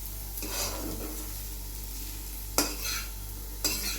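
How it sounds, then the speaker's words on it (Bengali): Milk with sugar being stirred in a pot as it thickens, heard as a faint low bubbling hiss under a steady hum, with a couple of sharp spoon scrapes near the end. "এখানে চিনি দিয়ে এটা ঘন করে নিচ্ছি। আর এটা একটু নেড়ে চেড়ে তারপরে ওর মধ্যে দিয়ে দেবো।"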